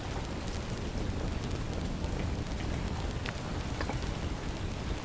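Steady rain falling in the survival game Survival: Fountain of Youth, a continuous dense patter of drops that stays even in level for the whole stretch, with no voices.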